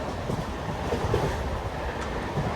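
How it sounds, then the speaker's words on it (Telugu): Two trains rush past at high speed, a continuous loud rumble of rail noise with rattling wheels and no voices. "సూపర్ స్పీడ్లోనైతే పోతున్నాయి రెండు ట్రైన్లు"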